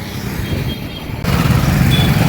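A tractor engine rumbles steadily nearby, then grows suddenly louder and rougher as the tractor pulls away; no voices.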